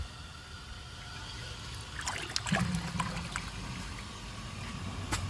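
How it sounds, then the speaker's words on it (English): A weak flush from a 1992 Universal-Rundle Atlas toilet, a brief low gurgle and trickle of water draining that swells for a moment and then settles into a soft, steady dribble close by, with no voices. "the flush is just so weak"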